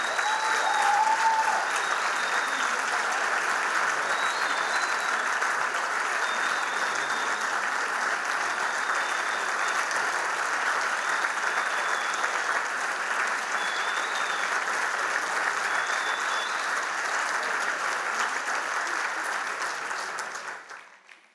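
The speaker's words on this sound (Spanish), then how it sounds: "txalo bero bat Miren Gomez eta bere ikasleentzat" Sustained warm applause from a crowd at a Beldur Barik 2019 event in Irun for Miren Gomez and her students, an even, dense roar of clapping that holds steady before fading out at the end.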